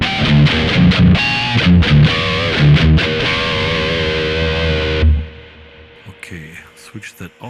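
An electric guitar runs through a Kemper Profiler with a pure booster distortion, playing loud sustained distorted notes and chords for about five seconds before cutting off, followed by faint clicks.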